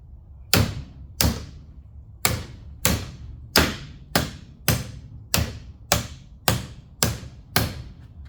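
A hammer strikes a Bravura plastic trumpet clamped down tight, landing about a dozen sharp, loud, close blows at a fairly steady pace, each with a quick ringing decay and no talking.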